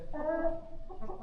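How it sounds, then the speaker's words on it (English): Chickens cluck and murmur inside a coop built from beams and a grain bin, where broody hens sit on eggs; a close, steady run of short, throaty calls over about a second. "But chickens are pretty happy in here."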